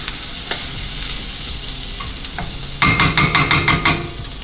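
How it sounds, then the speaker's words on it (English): Lebanese rice with salt being stirred in a pot, a spoon scraping and clinking in quick rhythmic strokes over a steady sizzling background, the stirring growing louder and busier in the final seconds, close and without talk. "Give that a stir."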